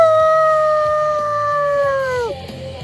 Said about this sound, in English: Dark Wolf howling here